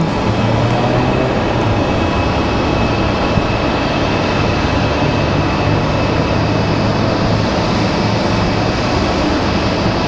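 Republic Airways Embraer E175 regional jet departing Raleigh Durham International on a repositioning flight, a loud continuous engine roar filling the whole stretch without pause, with no voices.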